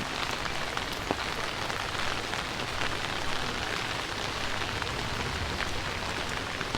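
Steady rain falls in the middle of the rainy season, a dense continuous hiss of drops on surfaces with no voices, constant in loudness throughout.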